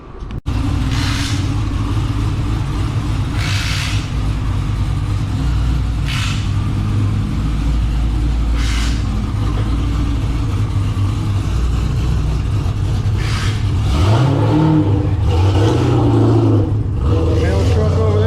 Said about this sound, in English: You just can't go anywhere in a Crown Vic without doing a burnout.